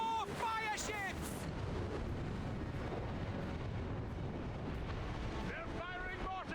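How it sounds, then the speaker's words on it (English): Mortar and cannon fire rumble through a naval battle in Assassin's Creed Rogue, a steady dense roar of low booms with whistling high tones near the start and end, mixed with wind and shouting voices. "They're firing mortars!"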